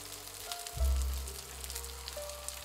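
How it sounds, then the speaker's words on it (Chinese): Round fried gluten balls stuffed with pork sit opening-side down in hot oil in a pan, giving a steady, soft sizzle and crackle under a low background hum. "把油面筋的口朝下放进去煎"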